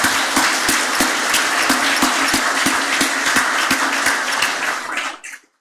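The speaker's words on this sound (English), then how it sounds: "please give her a round of applause" An audience at a Higashi Honganji temple Rinban succession service claps in warm, full applause. Some individual claps stand out crisply before the clapping dies away abruptly near the end.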